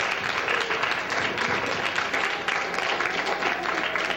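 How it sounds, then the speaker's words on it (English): An audience applauds high school and University of Michigan facilitators at a community walk event, a dense, steady wash of clapping from many hands that holds evenly for the whole stretch. "let's give them a round of applause"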